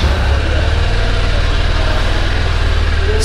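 A Honda CB200X motorcycle engine idles steadily with a low, even rumble throughout, close by and unbroken.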